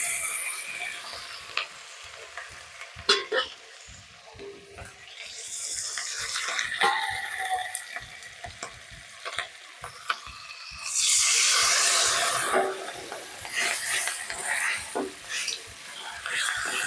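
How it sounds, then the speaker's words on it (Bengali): Fish roe sizzles in a pan as onion, green chili and mustard paste go in, with a steady close frying hiss, stirring scrapes and clinks, and a louder surge of sizzle partway through. "এবার আমি এর ভিতরে পেঁয়াজ, কাঁচা লঙ্কা আর সর্ষে বাটাটা দিয়ে দেব।"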